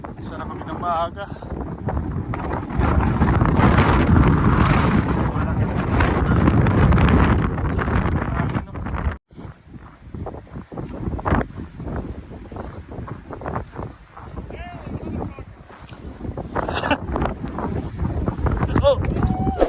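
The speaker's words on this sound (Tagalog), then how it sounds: "Grabe ang hangin." Strong cold wind in Canada buffets the microphone with heavy rumbling gusts, easing midway into choppier bursts while voices speak beneath it.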